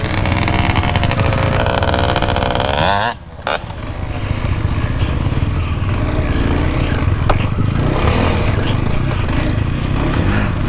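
Motorcycle engine hums steadily while riding along a road, loud and close with wind noise, briefly dropping out then resuming at a constant pace.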